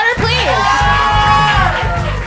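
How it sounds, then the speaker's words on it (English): An audience at a comedy variety show cheers loudly for the co-host, with whoops and shouted voices rising over a crowd roar in a short, boisterous burst. "Everybody give a wild round of applause"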